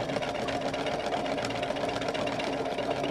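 A kid connection toy washing machine runs and shakes, giving off a close, steady whirring motor buzz with faint rattling for a few seconds and no talking.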